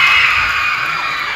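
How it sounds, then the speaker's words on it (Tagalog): A crowd of children at a Christmas gift-giving party with a clown magician cheering and shouting together in one loud, sustained burst of voices that holds steady and fades slightly. "Sample nga muna ng palakpakan. Yung may kasamang sigawan."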